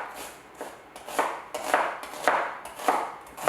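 Vegetables for stewed okra and tomatoes are chopped on a board with a knife, steady close knife strokes falling about twice a second with no voices.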